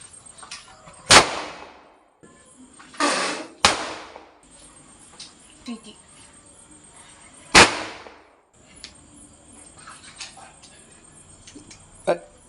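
Gundu firecrackers burst at an Eid celebration: several sharp, loud bangs spaced irregularly over about twelve seconds, some with short echoing tails, while people's voices are faintly heard between blasts.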